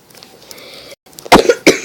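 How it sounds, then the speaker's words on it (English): A sick person coughs in a workshop while working on an offroad build: quiet background at first, then a sharp burst of two or three close, loud coughs near the end. "Sorry if you guys hear coughing"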